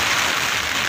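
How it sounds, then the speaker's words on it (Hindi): Heavy rain from a thunderstorm in the Jhola Dhar range of snowy mountains, a dense, loud, unbroken hiss close by for a brief moment, with no voices. "मतलब बहुत बारिश पड़ी है, बहुत ही बहुत बारिश पड़ी है।"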